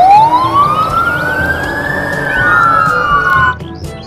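A toy fire truck siren rises and falls in one slow electronic sweep with a faint chirping tone above, loud and close, ending abruptly.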